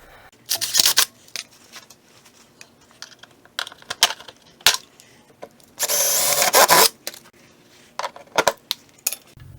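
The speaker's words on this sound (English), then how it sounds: "rivets that I've got to drill out" Short bursts of a power drill drilling out rivets on a 2005 Jeep Liberty rear bumper, with one longer sustained whine midway, scattered clicks and clatter between bursts, close by.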